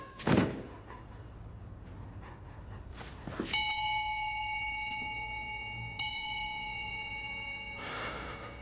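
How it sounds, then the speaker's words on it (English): A memorial bell is rung at a fire department ceremony for fire trainees, struck twice, each strike a bright metallic clang with a long sustained ring that hangs in the quiet room. "Today, we ring the bell in their honor."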